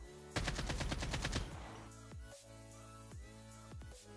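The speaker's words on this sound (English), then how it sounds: "we'll see the recoil pattern of my AK-47 without the stabilizer mod" AK-47 fired on full auto in Call of Duty Mobile, a loud burst of about a dozen rapid shots lasting around a second, then ringing game tones and scattered faint thuds.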